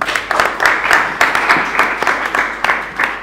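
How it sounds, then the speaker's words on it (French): An audience at a book-signing ceremony for the author Bara Beleup Ndao applauds in uneven waves of close, fairly loud clapping with irregular bursts, and no talk over it. "Et cela mérite bien des applaudissements."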